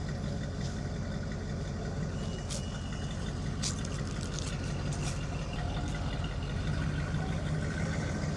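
A car engine with no exhaust pipes idles with a loud, raw, steady rumble up close, its throaty pulsing unbroken for several seconds.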